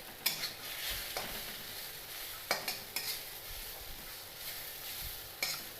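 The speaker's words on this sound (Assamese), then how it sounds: "প্ৰায় হৈয়ে গৈছে ভাজা। আলুখিনিও সিজি উঠিছে, পটলখিনিও সিজি উঠিছে।" Potato and pointed gourd pieces fry in a pan over a gas flame while a utensil stirs them, sending scraping clanks every second or so over a soft continuous sizzle.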